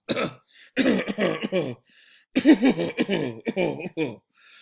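A voice imitates a cough, rough throat-clearing hacks mixed into a man's reading of Poe's The Cask of Amontillado, loud and close.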